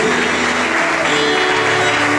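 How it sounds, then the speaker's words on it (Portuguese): A church congregation applauds during a worship service, producing a loud, continuous wash of clapping and crowd noise that fills the short moment without letup. "Aplauda ele, igreja."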